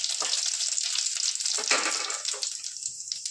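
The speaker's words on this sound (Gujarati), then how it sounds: "એમાં આપણે 1 ચમચી જેટલી રાઈ નાખીશું, 1/2 ચમચી જીરું નાખીશું અને હિંગ થોડીક નાખીશું" Mustard seeds, cumin and a pinch of asafoetida hit hot oil in a pan, producing a loud, close, continuous sizzle with sharp crackles that eases off slightly toward the end.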